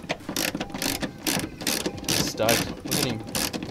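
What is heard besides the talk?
ratchet with 10mm socket removing tail light screws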